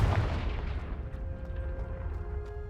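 A blast spell explosion in Hogwarts Legacy, a heavy booming impact at the start followed by a rumbling decay with faint crackling debris and a low tonal ring.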